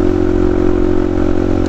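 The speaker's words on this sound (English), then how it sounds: "the bike's running great" A motorcycle engine idles steadily and close by, a continuous low rumble with a light mechanical clatter and no change in pace.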